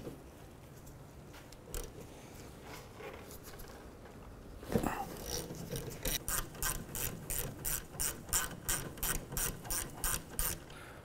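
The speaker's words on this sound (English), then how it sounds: "Two 14mm bolts on the pins. We'll remove those now." A ratchet backing out the 14mm caliper pin bolts on the rear brake of a 2007-2013 Mitsubishi Outlander, starting with a few scattered clicks and then settling into a quick, steady run of rhythmic ratcheting strokes, close up.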